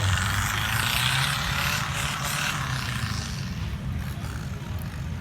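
A steady 4x4 off-road vehicle engine roar with a broad rushing hiss rumbles continuously at close range, easing slightly toward the end, with no voices.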